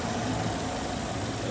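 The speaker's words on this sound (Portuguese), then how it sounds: "mostrar pra vocês aí agora a diferença do barulho do motor, tá vendo? O barulho agora tá normal aí" Chevrolet Cobalt engine idling after repair and a coolant change, a steady, even broadband hum heard close and continuous throughout the short stretch.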